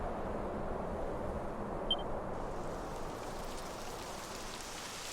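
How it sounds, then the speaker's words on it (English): Steady rainfall in the video game Dragon Quest 11 hisses across the whole clip, a dense even wash with a faint high blip near the two-second mark. "It would have to go and start raining, wouldn't it?"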